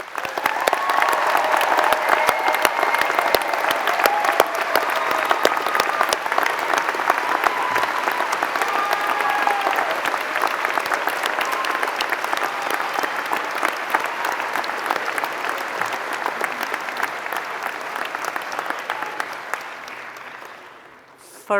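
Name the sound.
applause for supporters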